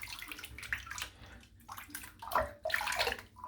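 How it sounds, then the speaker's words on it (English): A silvertip shaving brush rinsed of soap under running water, close splashing and sloshing with squeezing gurgles, moderately loud and alone. "Rinse the soap out."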